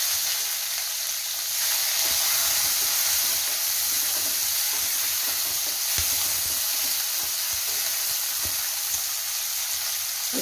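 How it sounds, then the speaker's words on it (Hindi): A single chopped onion frying in a pan for a yogurt potato curry, giving a steady, dense, close sizzle with crackles and small pops throughout, with no voices. "प्याज को हम अच्छे से फ्राई होने देते हैं।"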